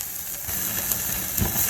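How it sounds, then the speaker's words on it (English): Steak searing in a hot pan, a steady close hiss and sizzle with a few brief pops of spitting fat. "This is how you sear a steak."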